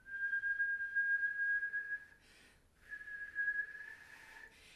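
A single clear whistled tone, demonstrating flute embouchure, is held for about two seconds, pauses briefly with a breathy rush, then resumes at a similar pitch.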